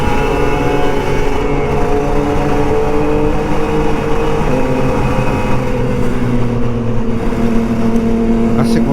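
An older Kawasaki Ninja RR 150 two-stroke motorcycle riding on the road behind a big bike, its engine holding a steady loud drone with shifting pitch under wind noise, heard close from the rider's position.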